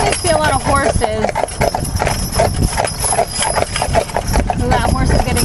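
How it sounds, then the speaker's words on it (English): Percheron draft horses clip-clop along a country road, hooves striking in a steady, busy rhythm that stays loud and close, with wheels and ambient noise mixed underneath. "So that horse is getting excited there."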